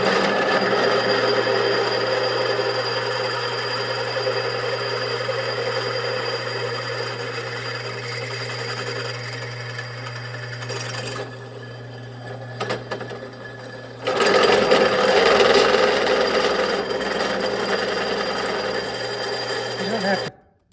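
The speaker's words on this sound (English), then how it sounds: "Now I'm drilling a 3/8 hole all the way through." A drill bores a 3/8 inch hole straight through metal on a buggy build, a steady close whirring drone that shifts to a harsher, louder grind near the end before stopping.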